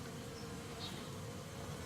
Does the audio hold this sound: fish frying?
no